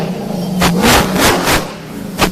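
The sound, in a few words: race vehicle engine revving at the start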